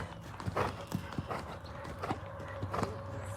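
Horse hooves thud in an uneven canter rhythm during a dressage canter pirouette in an arena, a run of close, fairly loud beats with a faint whinny-like tone under them and no talk.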